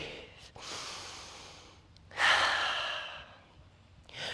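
Slow deep breaths drawn in and let out during a power yoga session, a long exhale, then a stronger inhale and exhale, with a third breath starting at the end, close and with no talking.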